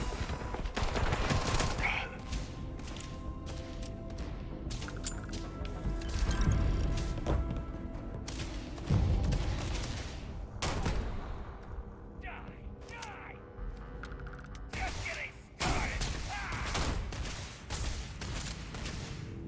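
Rapid bursts of gunfire and impacts from the video game Starfield, loud and repeated across the clip with shouted speech over the shooting.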